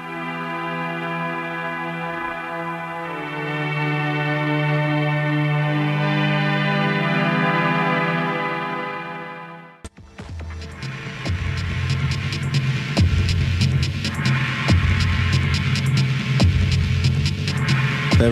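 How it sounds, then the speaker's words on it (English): An untitled electronic music track released on Reflex Records: a sustained droning, buzzing tonal passage that cuts out abruptly, then gives way to a louder, denser section with pulsing low beats and bright percussive hits, with no voices. "we're going to listen to one of the tracks on Reflex Records now, and it has no name and no title."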